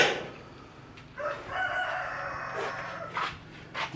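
A rooster crows once, fairly faint and somewhat distant, its drawn-out call rising and trailing off over a low, quiet outdoor background on a farm plot near a greenhouse.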